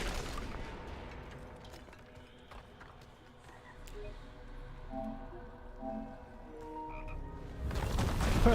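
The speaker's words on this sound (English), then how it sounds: "the ambient noise is just frogs happily croaking in the background" Frogs croak in a dungeon's ambient soundscape in Diablo 4 on PS5, a low steady chorus of soft, scattered croaks heard faintly in the background with no talk over them.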